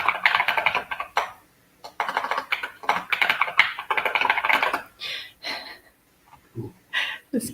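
Someone types on a computer keyboard up close, with rapid clattering bursts of keystrokes broken by short pauses and a few isolated taps near the end.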